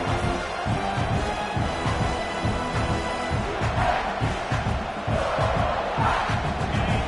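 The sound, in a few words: stadium crowd cheering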